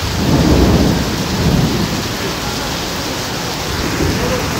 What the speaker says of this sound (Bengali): প্রচুর পরিমাণ বৃষ্টি, মাঝপথে এসে আটকা পড়ছি